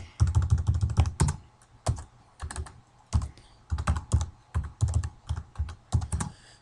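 Steady typing on a computer keyboard, close and clear, with bursts of rapid clicking broken by short pauses and occasional louder key strikes.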